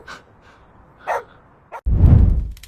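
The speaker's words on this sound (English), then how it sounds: "His dog wouldn't stop barking the entire time." An agitated dog gives a few short, separated barks outdoors at night, followed by a loud, low, rumbling burst of noise close to the recorder.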